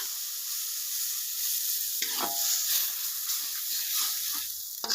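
Sizzling and bubbling in a hot wok as coconut milk thinned with water is poured in and stirred while cooking egg oseng, a steady loud fry hiss with clattering stir sounds throughout.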